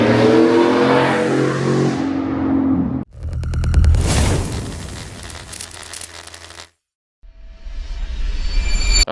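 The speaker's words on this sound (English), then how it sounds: "I think I have the best sounding custom exhaust on the F-150." Custom exhaust on a supercharged 2022 Ford F-150 revs hard in loud, close bursts, broken by a brief silence before rising again.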